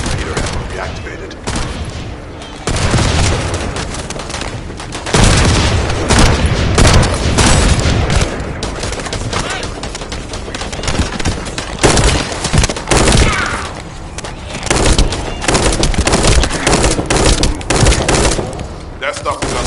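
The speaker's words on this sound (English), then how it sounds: "That stopped the gunfire." Heavy gunfire in The First Descendant video game, with sustained bursts of automatic fire, booming impacts and explosions layered densely and loud throughout, some voices briefly mixed in.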